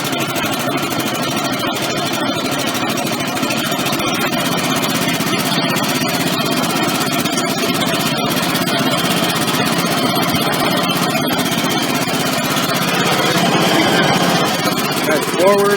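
An MTD lawn mower engine runs steadily at throttle, a loud, continuous buzzing drone close by with a voice speaking over it.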